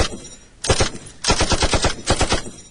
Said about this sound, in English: You've been waiting for an excuse to use all these gunshots, haven't you?